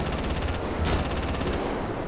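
Gunfire in the GTA 5 video game, aimed at a large boat during a Brazilian roleplay session: a steady run of rapid shots repeats throughout, with one louder burst near the middle.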